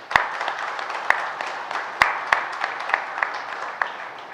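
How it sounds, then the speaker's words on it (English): A sports conclave audience applauds in a hall. Moderate, fairly sparse clapping with a few loud, distinct hand claps close by over a softer spread of claps, no speech. "we should have a big round of applause for that"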